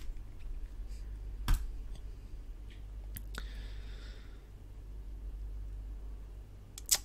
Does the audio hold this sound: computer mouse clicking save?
yes